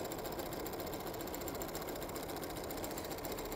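A sewing machine stitches a quarter-inch seam through quilting fabric, a steady, unbroken mechanical whir that holds even for the whole stretch with no talk over it.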